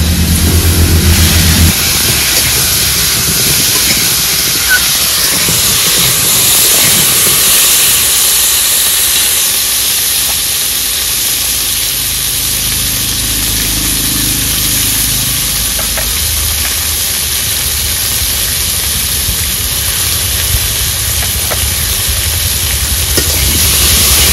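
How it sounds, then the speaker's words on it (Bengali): Potatoes fry in a hot wok, giving off a loud, steady hiss and sizzle that runs without a break, with faint stirring scrapes now and then. "এবার আলুগুলো ভেজে নেব।"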